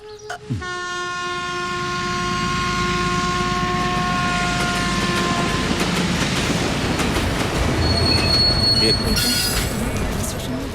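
A train pulls out of a station, its horn sounding long and loud at the start, then wheels rumbling and clattering steadily with squeals and a platform bustle, a voice speaking briefly near the beginning.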